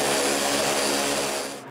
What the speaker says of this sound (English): While I'm at it, I sand the edge also.